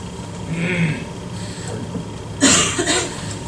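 A single rough throat clearing, almost a cough, rises close by over quiet room background noise near the end, during a county commissioners meeting.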